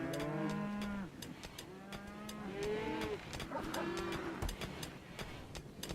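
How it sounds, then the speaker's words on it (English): Several cows moo in a farm video game, drawn-out lowing calls overlapping one after another at moderate distance, accompanied by intermittent clicks and light background noise. "And he put the cows to bed."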